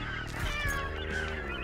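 Seagulls in the video game Daiichi Dash give loud, harsh, honking cries that overlap continuously over a dense game soundtrack, with no talking.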